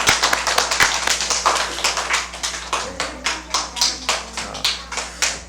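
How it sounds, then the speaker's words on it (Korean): Children at a church elementary Sunday school service clap in welcome, a brisk run of sharp, fairly even handclaps that keeps going on its own. "우리 친구들 다시 한번 박수로 한 번 더 환영하겠습니다."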